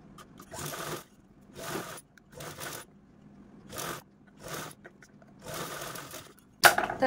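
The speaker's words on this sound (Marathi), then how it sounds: "मी तुम्हाला शिलाई मशीनवरती दाखवते" A sewing machine stitches a zipper onto an invisible-zipper pillow cushion cover in several short bursts of rapid whirring, separated by pauses, ending with a sharper clack.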